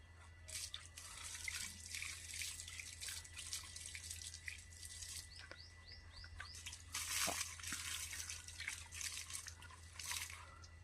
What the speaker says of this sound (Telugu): ఇప్పుడైతే చెట్లకైతే నీళ్ళైతే పోస్తాం